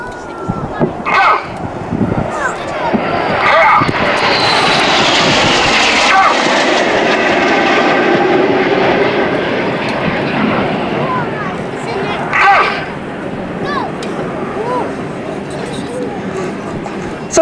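A synchro pair of Hawker Hunter jets flies past low, a rising and falling jet roar that builds to a loud peak mid-pass before trailing away, with voices talking over parts of it.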